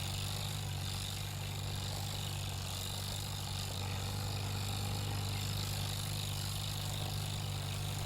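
Tractor engine in the Farming Simulator game, a steady low droning hum running continuously and fairly loud throughout, with no talk over it.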